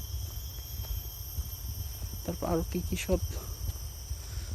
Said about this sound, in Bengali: ঝিঝি পোকার ডাক এই দিনের বেলায় ঝিঝি পোকার ডাক